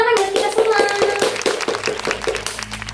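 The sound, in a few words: class clapping hands in applause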